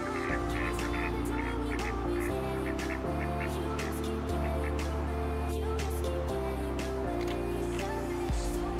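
A goose honks repeatedly at close range in a continuous, loud outdoor scene, with irregular harsh calls over a steady low background.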